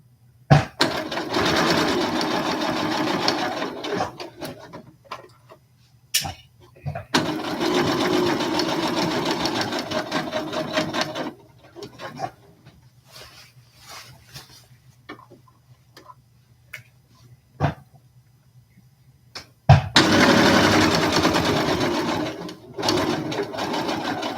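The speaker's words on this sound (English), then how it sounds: "back stitch" Sewing machine back stitching, loud and close, running in several sustained buzzing bursts of rapid rhythmic ticking separated by quiet pauses with occasional clicks.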